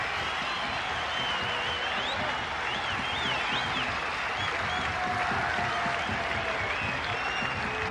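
Cricket crowd of about 15,000 at Asgiriya applauding a batsman's fifty at the 1996 World Cup, Sri Lanka vs Kenya, steady distant clapping with whistles and faint shouts.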